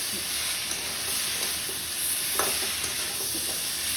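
Vegetables and spices fry in a pan with pomfret fish nearby, giving a loud, even sizzling hiss up close, with a faint scrape of stirring partway through and no voices.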